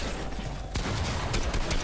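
Gunfire in Fortnite: a sharp shot cracks out partway through, followed by further bursts and clatter against a dense, noisy background.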